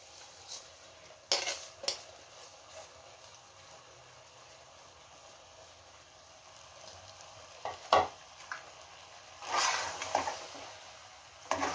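Roasted dalia (cracked wheat) is stirred in a frying pan over gentle sizzling, with occasional scraping and clatters of the spoon against the pan in separate bursts between quiet stretches.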